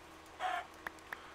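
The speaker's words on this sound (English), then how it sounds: "Let's grab these last couple chickens." A Minecraft chicken gives a short clucking call followed by two quick, faint clicks, all within a brief, quiet moment of gameplay with no talking.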